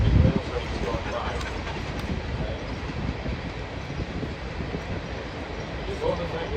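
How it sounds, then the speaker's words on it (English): Very long freight train rolling past at a youth nationals opening ceremony, a steady, dense rumble and rail clatter that holds evenly throughout, close and fairly loud. "we have one of these massive secret rail trains going by."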